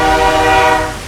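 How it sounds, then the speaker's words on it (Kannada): A goods train passes near the Dudhsagar waterfall, its steady horn tone sounding loud and close over a low rumble for about a second. "ಗ್ಯಾಪಲ್ಲಿ ಒಂದು ಗೂಡ್ಸ್ ಟ್ರೈನ್ ಕೂಡ ಪಾಸ್ ಆಯಿತು."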